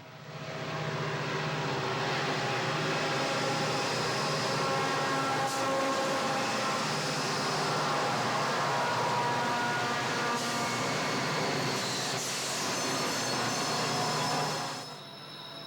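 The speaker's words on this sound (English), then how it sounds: "A stone's throw to the southeast, we find another SP freight headed west through a deep cut." Southern Pacific diesel locomotives haul a westbound freight train through a deep cut at Cajon Pass, a loud steady engine drone with rumbling wheels and metallic squeals that fades near the end.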